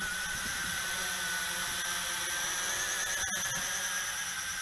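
A large foldable CF-920 RC quadcopter hovers with its motors whirring, a steady high buzzing tone with a faint vibrating wobble, close and continuous, with no talking.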